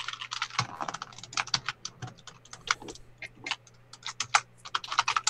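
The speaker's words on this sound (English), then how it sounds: "Someone's bashing away on the keyboard there." Someone typing on a computer keyboard during a live Linux show, rapid irregular clacking keystrokes in quick bursts, fairly close over a faint steady hum, with no talking.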